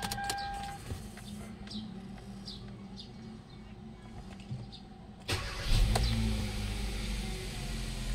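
A Kia Rio with a newly replaced crankshaft sensor idles quietly, then its engine cranks and fires up about two-thirds through and settles into a louder, steady run nearby, with no talking.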